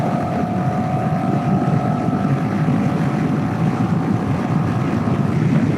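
A 2024 Kawasaki Eliminator 450 motorcycle pulls hard in sixth gear, its steady engine drone rising slightly in pitch under heavy, constant wind rush throughout.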